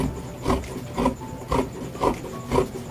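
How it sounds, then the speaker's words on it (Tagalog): Thick folded dress fabric is cut in even, rasping strokes, about two per second, close and moderately loud, each cut a short rough scrape over a faint steady background hum. "Medyo mahirap lang tabasin ito. Makapal yan eh."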